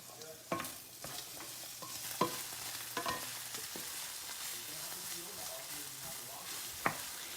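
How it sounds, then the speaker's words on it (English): Onions sizzle softly in a pan on a stovetop, a faint steady frying hiss broken by occasional clinks and stirring scrapes of a utensil. "I hear the onions sizzling."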